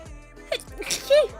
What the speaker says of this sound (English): I am going to sneeze